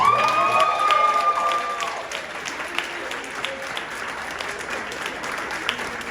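An audience at a brunch event applauds and cheers, a loud burst of clapping that quickly settles into steadier, softer applause with scattered whoops.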